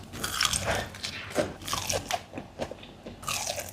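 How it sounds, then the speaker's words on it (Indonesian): Loud, close crunching bites into a crispy fried chicken wing, several crunches in quick succession with chewing between them, no talking. "Kita coba dulu tes kriuk."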